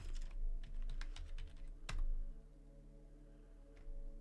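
Rapid keystrokes on a computer keyboard while Debian terminal commands are entered, irregular bursts of clicks with a sharper stroke near the middle, close and clear over a low steady hum.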